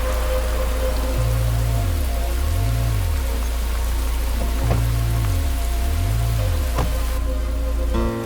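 Steady rain falls on surfaces in a city at night, a dense continuous patter with a low tonal hum running beneath it, no voices.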